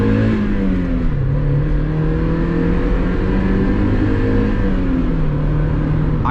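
A Mazda NB Miata engine hums steadily from inside the cabin, revving up and easing off as it drives, loud and continuous.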